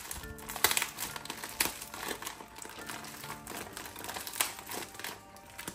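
Plastic packaging around a plush toy crinkles and tears as it is ripped open indoors, giving a run of close crackling, crumpling bursts at fairly low volume.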